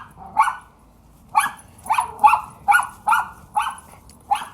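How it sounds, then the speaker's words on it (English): The neighbor's dog barks repeatedly in a fairly steady rhythm, seven or eight clear, moderately loud barks from a moderate distance in an otherwise quiet outdoor garden. "That's the neighbor's dog."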